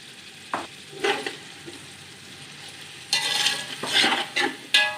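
Chopped, peeled tomatoes and pulao masala cook in a pot for chicken yakhni pulao. A soft simmering hiss is broken by several sharp scraping and clattering bursts as the mixture is stirred.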